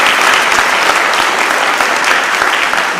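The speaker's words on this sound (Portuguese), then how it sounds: "Dá uma salva de palmas a Jesus." A church congregation breaks into loud, sustained applause, a thick continuous wash of many hands clapping at once with no pauses.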